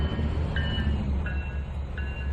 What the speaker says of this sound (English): That is some awesome locomotive.